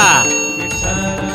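A bright bell chime for a subscribe reminder rings out at the start, then fades under a layered musical backdrop.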